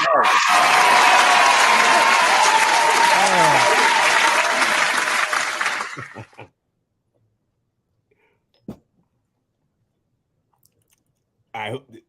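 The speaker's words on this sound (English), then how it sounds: "Round of applause for a good business sense." A live mixshow audience bursts into dense, loud applause that holds for about six seconds, then drops to near silence. A few faint, brief sounds follow.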